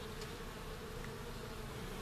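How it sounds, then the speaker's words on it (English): Honey bees buzz faintly on a hive frame during an inspection, a soft, steady hum with a low drone throughout and no talking. "There's a few bees on it."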